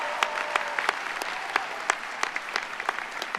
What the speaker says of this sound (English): give yourself another round of applause